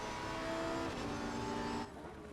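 Lamborghini race car engine in a racing video game at Laguna Seca, a steady sustained engine drone with harmonic whine held for about two seconds, then abruptly dropping in level near the end.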